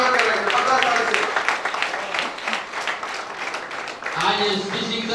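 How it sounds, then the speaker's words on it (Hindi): An audience applauds steadily to welcome achievers being honored with gifts at a celebration, dense clapping running throughout with a voice speaking over it and a fresh burst near the end. "जबरदस्त ताली से स्वागत कर रहे हैं, जबरदस्त ताली से।"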